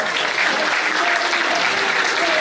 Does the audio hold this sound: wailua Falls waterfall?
no